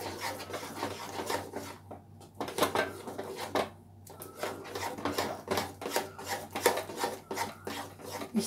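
A spoon scrapes and rasps steadily against a pan as semolina is stirred continuously over low gas, a repeated gritty rubbing rhythm with brief pauses, close and fairly quiet.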